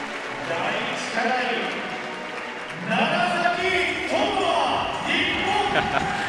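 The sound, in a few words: crowd reacting at bouldering competition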